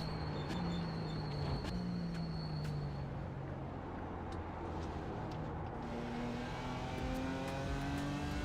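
A Porsche Cup race car in a racing video game drones steadily at high revs, its engine pitch sliding down and then climbing again as it accelerates, continuous and close throughout.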